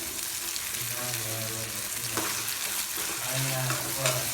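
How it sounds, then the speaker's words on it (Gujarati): Tomatoes and onions fry in oil in a pan while being stirred, a steady close sizzle with scraping stir strokes throughout and no talking. "હવે આપણે એમાં ટમેટા એડ કરી દઈએ ને આપણે એને હવે 2-5 મિનિટ સરસ રીતે હલાવીને ચડવા દેવાનું છે 5 મિનિટ સુધી"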